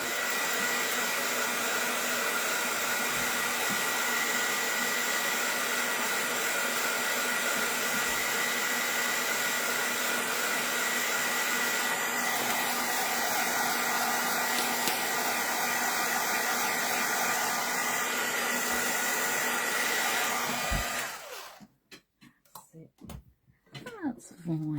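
A hair dryer blasts air over a mixed media artwork, a loud steady whooshing roar running for about twenty seconds before switching off, followed by faint handling sounds.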